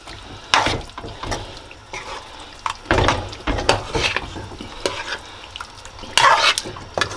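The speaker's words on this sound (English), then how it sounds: "Mix that bad boy all around. Make sure everything is coated evenly." Curry shrimp stirred in a pot, with irregular scraping and clattering strokes of a spoon against the metal over a light sizzle, several louder bursts spaced through it, no talking.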